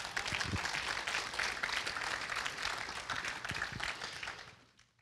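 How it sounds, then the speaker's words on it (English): A church congregation claps their hands together, a dense, steady wash of applause that holds for several seconds before tapering off at the end. "Give God a hand clap today."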